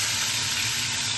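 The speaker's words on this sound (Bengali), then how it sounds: "এর মধ্যে একটু জিরে ফোড়ন দেব" Cumin seeds tempering in hot oil, a brief, dense, continuous sizzle close up and fairly loud, without any talking.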